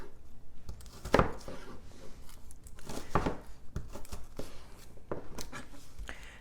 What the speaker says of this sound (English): So I'll go ahead and slice that. And those I'm going to want diced up.